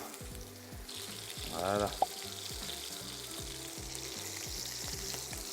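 Morels browning in a hot pan for a foie gras burger give a steady close frying sizzle throughout, with a brief louder hiss and a sharp clink midway and a voice saying a word.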